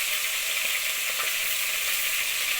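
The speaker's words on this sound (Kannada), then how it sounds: "ಎಣ್ಣೆ, ಈರುಳ್ಳಿ ಮತ್ತು ಬೆಳ್ಳುಳ್ಳಿಯ ಹಸಿ ಸ್ಮೆಲ್ ಹೋಗೋವರೆಗೂ ಫ್ರೈ ಮಾಡ್ಕೊಳ್ಳುವ" Crushed onion and garlic fry in hot oil for a gori kayi palya, giving a dense, constant, close sizzle with no pauses and no voices.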